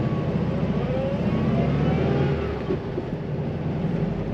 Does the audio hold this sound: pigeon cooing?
no